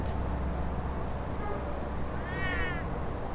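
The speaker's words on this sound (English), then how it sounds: "Meow, meow." A cat meows once, a drawn-out wavering cry midway, over a steady low rumbling background with no talking.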